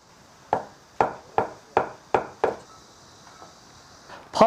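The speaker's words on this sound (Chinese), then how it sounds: "木耳也切成丝。" Kitchen knife slicing soaked wood ear mushroom into strips on a cutting board, six crisp evenly spaced chops close by, then a pause with light scraping and one final sharper cut.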